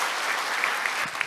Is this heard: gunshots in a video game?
no